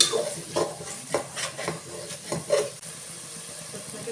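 Masala powder being stirred in a pan without water, with close scraping and clinking strokes of a spoon against the pan over a soft sizzle, several strokes then quieter.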